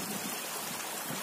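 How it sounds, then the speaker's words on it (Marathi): A waterfall on a trekking trail gives a steady, broadband rush of falling water, continuous and fairly even throughout with no talk. "हे धबधबा आमच्या पवनाच्या तालीतला आहे"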